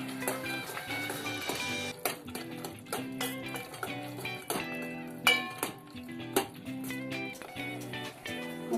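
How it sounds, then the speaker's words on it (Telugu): A spoon stirs raisins and cashews into pumpkin payasam cooked with jaggery in a pot, giving repeated light clinks and scrapes against the pot over steady background music. "ఇప్పుడు కిస్మిస్, జీడిపప్పు వేసుకోవాలి. ఒకసారి కలుపుదాం."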